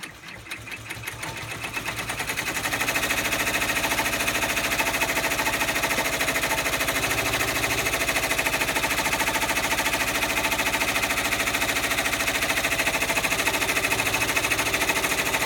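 An embroidery machine stitches a lined zipper fob pouch in black thread with a double-run reinforcement. It starts with a few uneven stitches, then settles into a loud, fast, steady mechanical chatter that carries on close and unbroken.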